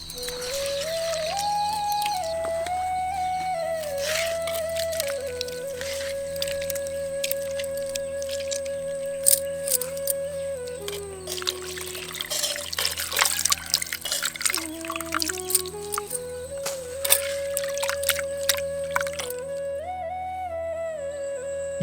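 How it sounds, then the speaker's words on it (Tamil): Two tomatoes are squeezed by hand with rock salt, giving wet, squelching drips and liquid sounds close by under steady background music. "இப்போ நம்ம எடுத்துக்கிட்ட 2 தக்காளியை கல்லுப்பு சேர்த்து நல்லா பிழிஞ்சு எடுத்துக்கலாம்."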